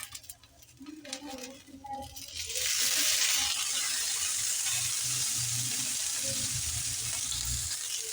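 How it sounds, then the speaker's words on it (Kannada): Chapati dough roasts in a pan until soft, giving a steady hissing sizzle that rises after a few seconds and holds, with soft scraping and handling noises and someone speaking beneath it early on. "ಮೆತ್ತಗಾಗುತ್ತನ ಈ ಥರ ಹುರ್ಕೋಬೇಕು ರೀ"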